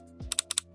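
Four crisp computer mouse clicks land in two quick pairs while declarations are ticked on an online driving licence renewal form, close and clear over a low hum with a soft thump just before.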